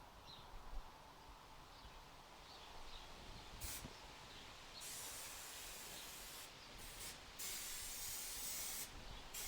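Spray adhesive hisses from a can onto a motorcycle seat pan for a 1970 Kawasaki F5 Bighorn in several bursts of varying length, growing steadier toward the end, heard fairly close over a quiet background.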